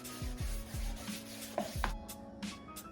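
Fine 2000-grit sandpaper rubbing back and forth along the edge of a painted Mazda Miata side mirror, a close, steady scratchy rasp with a few louder strokes and light handling knocks.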